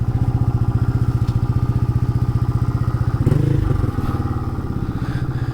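A Honda Monkey motorcycle engine, fitted with an added oil cooler, chugs steadily while being ridden, a loud, close, rhythmic low-pitched putter with a brief throttle swell partway through.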